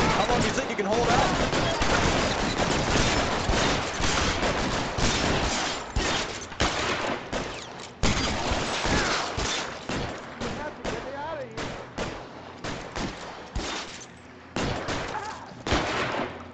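Rapid bursts of gunfire fill a shootout in the game L.A. Noire, loud and dense with overlapping shots and short pauses, while a voice talks over the fighting.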